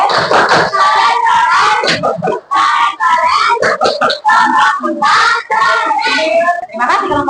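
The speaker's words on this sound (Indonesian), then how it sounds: "Kelompok 4, yuk tepuk keren." An elementary class doing the tepuk keren clap chant for a group, children chanting loudly together in rhythm with bursts of hand claps between the sung phrases.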